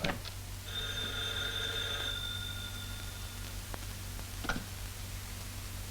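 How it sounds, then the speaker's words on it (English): An old-fashioned telephone bell rings in one sustained burst, clear and fairly close, followed by a couple of faint clicks against a steady background hum, with no voices. "There's the phone. Well, why don't you answer?"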